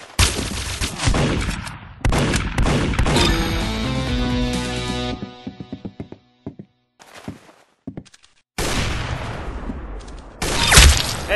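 Gunfire in a shooting video game, loud close bursts of shots and impacts that come in clustered volleys separated by short quiet gaps, with a final heavy crack at the end.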